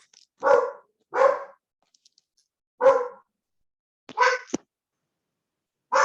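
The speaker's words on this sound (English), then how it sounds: "you all are hearing my dog bark" A dog barks in short, sharp bursts, four or five separate barks with pauses between, fairly close and loud with no talking.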